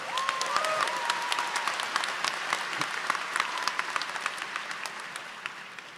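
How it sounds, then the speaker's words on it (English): Steady applause from a large convocation audience at a Rutgers Business School ceremony, dense clapping that holds at a fairly even level for the whole stretch before thinning slightly toward the end, with a brief voice early on. "please give it up again for Armand one more time"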